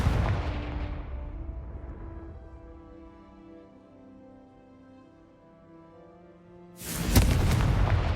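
A Confringo explosive spell in Hogwarts Legacy lands as a loud booming blast that rings out and fades over several seconds, then a second sharp, heavy burst hits near the end.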